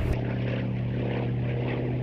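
Tail-dragger propeller aircraft with a powerful, heavy Bristol Centaurus sleeve-valve engine, droning loud and steady with a deep rumbling harmonic tone throughout, no voices.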